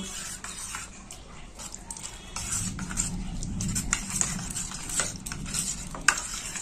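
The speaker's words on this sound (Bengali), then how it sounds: "এবার সবকিছু মিশিয়ে নেব।" Cashew paste, raisins, salt, sugar and curd being mixed together for a rohu-style fish dum, a soft wet stirring with faint scrapes and a light sizzle underneath, spoon clinks near the end, no voices.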